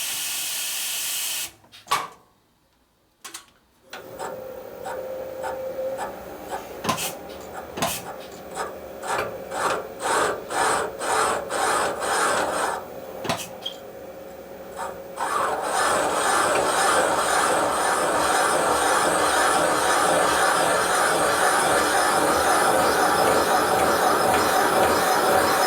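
Harsh rasping and grinding from a cutter working a valve seat in a 1981 Harley-Davidson XL Sportster 1000cc ironhead cylinder head, choppy at first, then a long steady grinding hiss that continues to the end.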